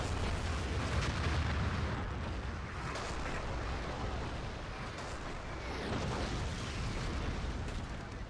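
Artillery explosions in the Battlefield 2 video game, heard as a dense, continuous roar of rumbling blasts and bursts during a conquest league match, loud and steady with no clear gaps.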